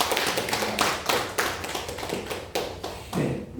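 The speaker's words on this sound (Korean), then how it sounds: "우리 축하의 박수 한번" A group applauding to celebrate a lecturer's book at a theological seminary class, steady clapping for a few seconds, fairly loud and close, without speech.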